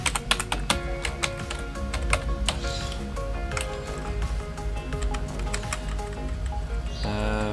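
Fast typing on a computer keyboard gives a quick run of clicking keystrokes over a steady tonal background hum.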